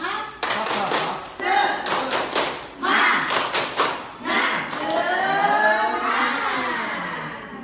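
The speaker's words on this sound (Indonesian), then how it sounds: "Semuanya yuk, tepuk semangat." Class of children doing the rhythmic Indonesian 'tepuk semangat' spirit clap, bursts of patterned group claps in quick sets, followed by chanting voices.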